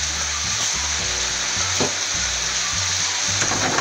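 Lomo saltado with tomatoes and oyster sauce being stirred in a hot pan, a loud continuous frying hiss under low rumbling scrapes of the spoon.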